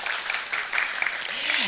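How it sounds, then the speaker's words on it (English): An audience at an ISEA International annual general meeting applauds a new chair, a brief, close burst of clapping with a voice speaking over it. "So a big applause for Irandi."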